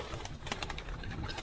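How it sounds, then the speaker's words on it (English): Roller pigeons cooing in a backyard loft, soft close calls over a steady dense background of shuffling and noise. "So these are my roller pigeons."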